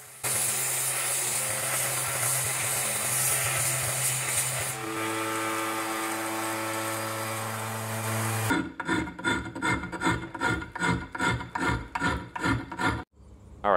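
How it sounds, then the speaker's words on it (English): A belt and disc combination sander grinds a cast aluminium claw, a steady loud rasping whine that shifts pitch midway, then breaks into rhythmic repeated passes of the piece against the abrasive. "going to clean it up using my new Viver MM4113 combination belt and disc sander"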